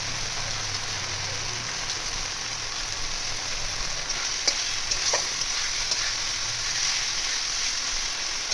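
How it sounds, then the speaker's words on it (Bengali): Garam masala and spices fry in oil for a Bengali village-style egg curry, giving a steady, close hiss of sizzling with a few scraping stirs that stand out partway through, and no talk. "কষাটা হোক, তারপর আবার মশলাটা কষে রাখি"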